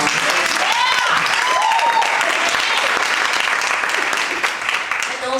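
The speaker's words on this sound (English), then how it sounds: "Give her a round of applause." An audience gives a loud, sustained round of applause that lasts the whole stretch, with a few cheers and whoops rising through the clapping.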